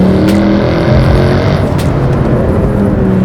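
A 2013 Mercedes-AMG C63 with a naturally aspirated V8 accelerating hard, a loud, steady, deep engine roar heard close up throughout, with no talking.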